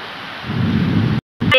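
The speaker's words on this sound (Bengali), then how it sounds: "বৃষ্টি আর ঠান্ডা বাতাস বইছে চারিদিকে" Steady rain falls outside a balcony amid cool wind, a loud, even wash of noise that cuts out abruptly near the end before briefly resuming.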